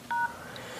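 LG G2 phone keypad sending a single DTMF dialing tone, one short clean beep at moderate volume with quiet around it.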